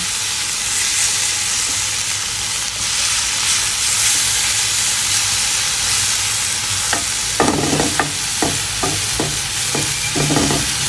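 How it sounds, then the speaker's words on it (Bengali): Food cooks in a pan for dinner with a loud, continuous close sizzle, then a run of rhythmic metal scraping and stirring strokes near the end. "রাতের জন্য রান্না করতেছিলাম"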